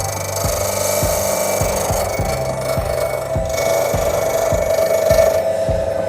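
A woodturning tool is sharpened on a CBN grinding wheel, with a steady motor whine under repeated rhythmic grinding strokes, close and fairly loud, with no talking.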